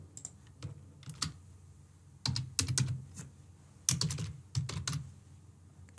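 Test card details typed on a computer keyboard in short, separated clusters of sharp, close key taps, quiet between the bursts.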